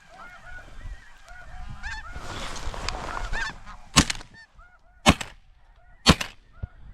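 Snow geese honk in a dense, overlapping chorus of many calls during a North Dakota blizzard, swelling into a busy flock sound, then several sharp loud bursts cut through as the calling thins.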